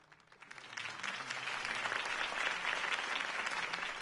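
A crowd applauds a campaign speech in Batman: The Telltale Series, the clapping swelling from a faint start into a dense, sustained roar that holds steady to the end.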